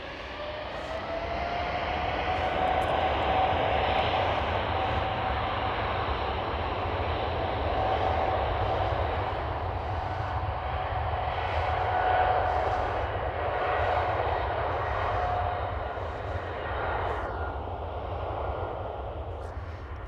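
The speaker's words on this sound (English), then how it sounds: "I do hear the 777 spooling up." A KLM Boeing 777 spools up its engines at Amsterdam Schiphol airport, a steady loud roar with a rising whine held throughout, heard from a distance across the airfield.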